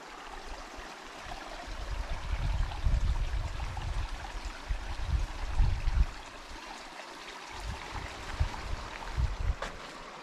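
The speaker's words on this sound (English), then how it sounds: "Oh, you found the babbling brook." Babbling brook near Devils Postpile in Mammoth, a steady close rushing and trickling of water with low surging swells, continuous and alone.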